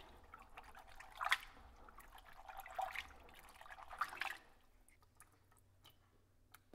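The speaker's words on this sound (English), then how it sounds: "I'm going to continue rinsing it and scrubbing the kernels until the bran comes off of it." Nixtamalized corn kernels being rinsed and scrubbed by hand in water to loosen the bran, giving faint, intermittent splashes and drips in three soft bursts with quiet pauses between, no talking.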